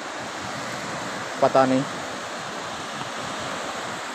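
Sea waves washing up on the shore in Karachi, a steady broad surf roar filling the whole clip, with a brief voice speaking over it midway.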